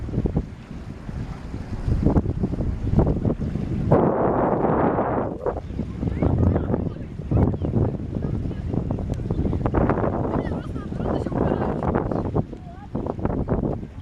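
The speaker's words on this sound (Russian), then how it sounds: "А здесь море, море, море." Sea and wind on a cold shore, with steady gusting wind noise buffeting the microphone and a broad wash of waves throughout, while a person talks over it.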